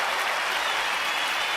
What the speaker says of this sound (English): How about a round of applause for the new website?